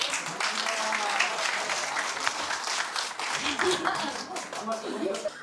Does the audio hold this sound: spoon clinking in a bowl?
no